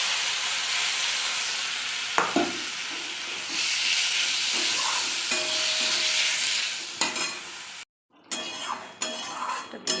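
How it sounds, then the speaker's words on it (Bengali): A paste of ginger, garlic, green chillies and boiled tomato hits a hot pan for a Bengali fish curry: a loud, hissing sizzle with stirring scrapes, a brief drop-out, then renewed crackling. "এই মশলাটা আমি দিয়ে দেবো।"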